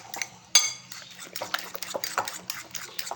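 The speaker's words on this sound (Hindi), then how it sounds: "एक ये हमने 2 अंडे लिए हैं, इसे मिक्स करने लगे हैं अब हम लोग।" Two eggs being whisked in a bowl for an omelette make quick, light clinking and tapping of a utensil against the bowl, close and moderately quiet.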